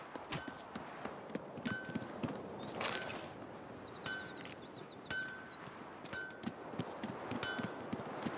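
Hooves from horses in The Witcher 3 clop at a slow, uneven walking pace on firm ground, with outdoor ambience and faint chirps of birds between the steps.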